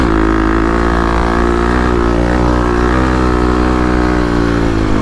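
Kawasaki KLX351 dirt bike on sand dunes, its engine droning loud and steady with a sustained revving note held throughout, close by.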